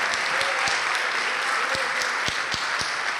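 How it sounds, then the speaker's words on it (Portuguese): Church congregation applauding steadily and loudly in praise, a dense continuous wash of many hands with a few sharper claps standing out and faint voices mixed in. "Vamos aplaudir mais ao nome de Jesus."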